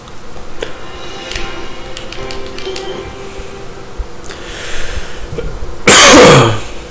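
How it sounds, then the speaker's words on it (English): A single loud, harsh cough bursts out close to the microphone near the end, after several seconds of quiet, sparse ticking and clicking sounds from the Sakuna of Rice and Ruin game. "I'm coughing a lot."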